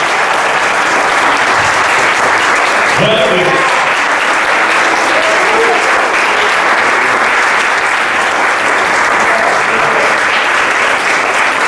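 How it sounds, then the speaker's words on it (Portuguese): A congregation at a church service applauds loudly and continuously, a thick wall of clapping with a brief shouted praise and a few voices mixed in. "dê para Jesus mais uma vez uma salva de palmas que ele merece"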